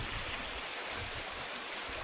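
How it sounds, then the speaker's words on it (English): Cool spring water at about 54 degrees flows steadily at a natural spring in Eureka Springs, a continuous close rushing wash with no talk over it. "The water sound,"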